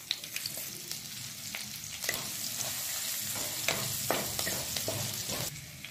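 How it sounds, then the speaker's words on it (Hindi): Cumin, green chillies, ginger, dried red chillies and bay leaf crackle in hot mustard oil, a close, continuous sizzle punctuated by sharp pops and spatters, with no one talking. "मैंने सरसों का तेल गरम कर दिया है और सबसे पहले हम जीरा डालेंगे, हरी मिर्च, अदरक,"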